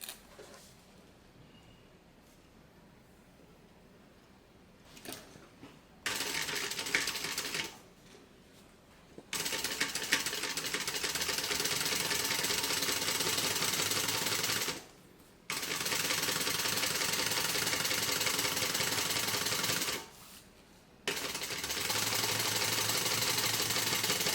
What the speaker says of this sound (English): We're going to top stitch all the way down, and that's just going to kind of hold this flat